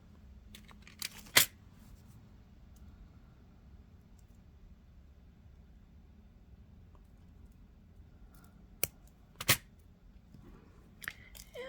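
Wire snipped loose during earring making: a few sharp, brief clicks of cutters, one near the start and a couple more toward the end, separated by long quiet stretches. No one speaks.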